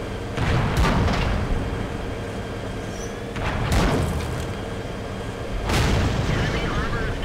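Tank cannon shots and explosions in a tank combat video game, three heavy booming blasts spaced a few seconds apart, each with a sharp crack and a long rumbling tail under a continuous engine drone.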